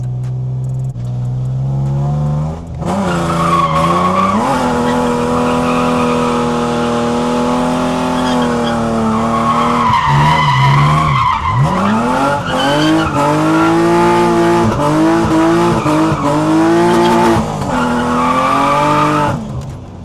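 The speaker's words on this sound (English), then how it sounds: "I'll give some left foot brake test." A BMW E46 fitted with a Z32 caliper big brake kit under hard left-foot braking, engine droning and revving with rising and falling pitch alongside tire noise, loud and continuous with no talk.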